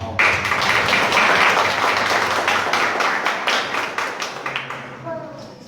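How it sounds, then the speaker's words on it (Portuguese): Church congregation gives a round of applause during a Christmas cantata service, dense clapping filling the room and gradually thinning into scattered claps with a low hum beneath. "Salve o nosso bondoso Deus com a salva de palmas."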